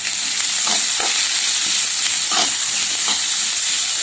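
Sliced onions fry in masala for a Kerala-style prawn roast, stirred until brown, with a loud, constant sizzle and several sharp scrapes of the spoon against the pan, and no voices.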